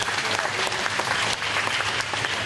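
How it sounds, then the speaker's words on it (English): An audience at a high school swimming Senior Day meet gives steady, full applause for a senior swimmer, a dense burst of clapping heard from the stands. "Round of applause for Miss Lauren Homan."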